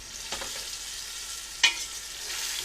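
Tinned tomatoes fry quietly in a pan as part of a sauce for mussels, giving a soft, even sizzle with one sharp utensil click partway through.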